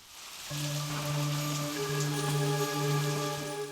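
Rain falling as a sound effect during a Malayalam stage play, a steady hiss of drops on a surface under a sustained low hum, fairly loud and continuous with no voices.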